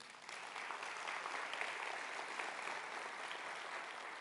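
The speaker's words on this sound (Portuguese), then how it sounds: "Aplauda ao Senhor." A church congregation bursts into steady, even applause during a sermon, a dense wash of clapping that holds a constant level for several seconds with no talk over it.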